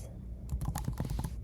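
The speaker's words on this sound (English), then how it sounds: "Typing in estimates," Quick bursts of typing on a computer keyboard, a rapid run of close, crisp key clicks lasting about a second, with no talking.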